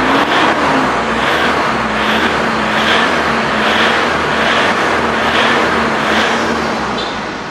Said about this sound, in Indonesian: Kita coba dengar mesinnya.